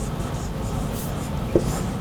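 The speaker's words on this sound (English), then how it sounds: "Here, I'll write down theorem" A theorem is written by hand during a stochastic control lecture, with faint continuous scratching of writing under low room noise and a tiny tap near the end.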